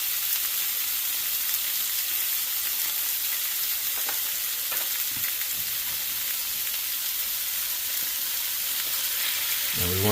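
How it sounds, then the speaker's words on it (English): Cod fillets seasoned with garlic powder and paprika fry in a pan with a steady, even sizzle. There are a few faint clinks, and a brief low knock comes near the end. "Now we want to cook these until they're a nice golden color on the bottom"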